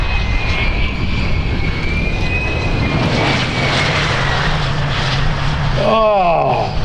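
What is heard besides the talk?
P-51 propeller aircraft landing at air show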